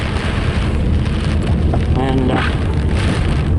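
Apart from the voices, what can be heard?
heavy rain pouring down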